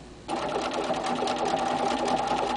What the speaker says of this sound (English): continue stitching